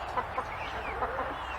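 Soft, low clucks from a rooster, a few short calls spaced irregularly over quiet background noise.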